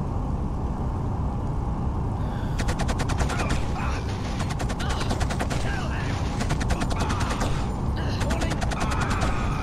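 Rapid bursts of automatic gunfire from the shooter game Killzone crackle in several sustained volleys over a constant background din, with short pauses between the strings of shots.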